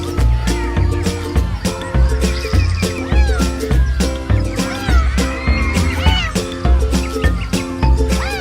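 A pet cat about ten years old meows repeatedly and loudly, with drawn-out, wavering cries close to the listener over steady rhythmic background music.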